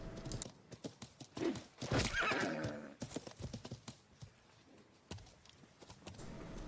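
Horse in the medieval combat game Life is Feudal neighs loudly and whinnies while its hooves clip-clop in a steady rhythm, with thuds and clashes mixed in close to the listener.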